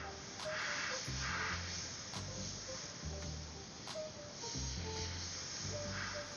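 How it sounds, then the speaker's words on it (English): A steady, airy hiss of an airbrush spraying paint on a hockey helmet runs throughout, nearly constant in level, with faint intermittent clicks and a low hum underneath. "I'm loving every second of spraying with this airbrush."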